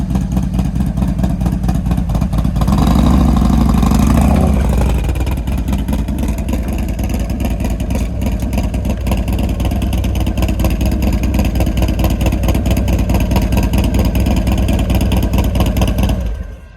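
A Harley-Davidson Road King motorcycle engine runs loud and close, rising in a rev early on, then settling into a steady rumbling idle for the rest.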